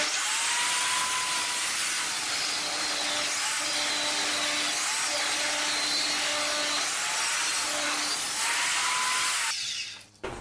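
A table saw rips a parallel cut through a tapered wooden shim blank, the blade's steady loud whine running continuously for about nine and a half seconds before spinning down, with no talking.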